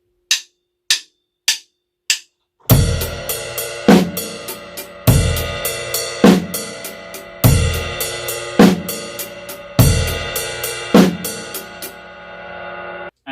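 A paradiddle groove on a drum kit, with steady ride cymbal strokes over a snare backbeat and bass drum, played close and loud after a few sharp lead-in clicks; no talking.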